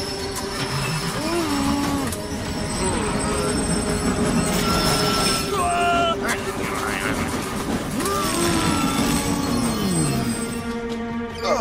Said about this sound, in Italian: Un super treno!